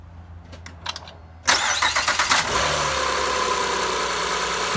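A 2008 Honda Pilot, just fitted with a new timing belt, cranks briefly and fires up loudly, then settles into a smooth, steady idle heard up close.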